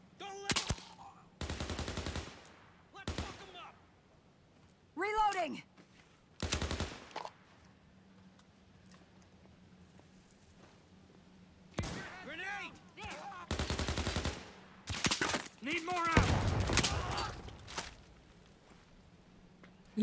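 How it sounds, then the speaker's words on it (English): Gunfire in the video game Overkill's The Walking Dead comes as scattered bursts of shots separated by quiet gaps, with occasional brief talking between them. "I'm being shot from somewhere, but I don't know where from."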